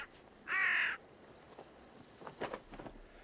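A crow gives one loud, harsh caw close by, followed by a few fainter, scattered calls from other birds in an open outdoor setting where sea eagles wait for crows and ravens to land first.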